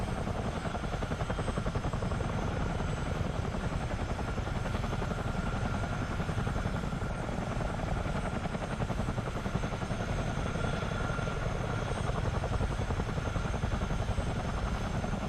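A CH-47D Chinook tandem-rotor helicopter in a flight simulator runs up for takeoff near a wall and fence, its steady, loud rotor thump and turbine drone filling the whole stretch without letup.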